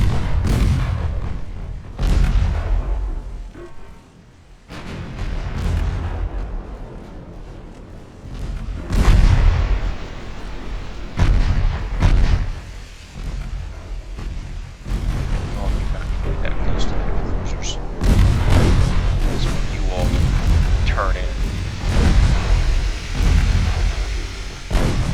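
Naval guns and torpedoes firing in the warship battle game Ultimate Admiral: Dreadnoughts, a sequence of deep heavy booms and rumbling blasts spread irregularly across the scene amid continuous battle noise, with someone talking at times.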